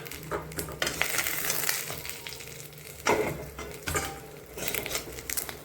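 Katla fish and its roe fry in hot oil in a pan, giving a close, steady sizzle with crackling spatters. Occasional clinks and scrapes of stirring break in at intervals, with no speech.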